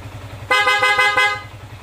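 A motorcycle horn sounded through the passing switch blares once for about three quarters of a second, loud and close, over a low idling engine.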